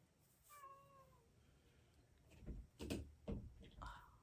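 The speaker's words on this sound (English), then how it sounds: "You can over hear the cat. Can you hear my cat?" A cat gives one clear, drawn-out meow nearby in a quiet indoor room, followed by a few soft knocks and bumps and then a short, higher call.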